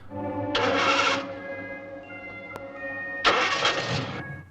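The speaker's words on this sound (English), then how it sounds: "And as Beaker leaves in his very noisy truck" A noisy truck engine in the Supercar: King Kool video game cranks and fires in two loud bursts with a humming idle between them, heard alone with no talk.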